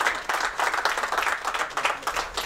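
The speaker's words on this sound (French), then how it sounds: "nous allons faire un grand applaudissement pour Bachelard." At the inauguration of an association in Pointe de la Verdure, a small gathering gives a round of applause, with close, fairly loud and uneven clapping that swells and dips in waves.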